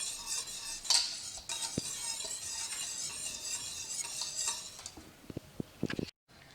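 Softened unsalted butter being stirred into warm melted chocolate in a bowl for homemade fudgesicles, heard as soft scraping and light clinks of a utensil against the bowl, quiet and uneven, ending in a few sharp taps.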